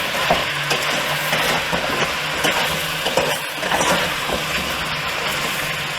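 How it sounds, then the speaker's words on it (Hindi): Ginger garlic paste sizzles steadily in a hot pan of mutton for siri paya, a loud continuous frying hiss with occasional scrapes and clinks of a stirring spoon. "अब हम यहाँ पे 1 टेबल स्पून अदरक लहसुन की पेस्ट डालेंगे।"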